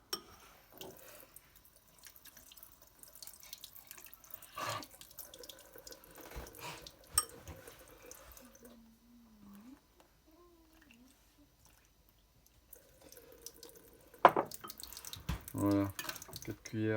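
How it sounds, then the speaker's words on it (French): Tap water runs into a bowl in a kitchen while mixing rye flour, a faint intermittent splashing and trickling under nearby French conversation, with clinks and a louder pour near the end. "il faut que je mette de l'eau"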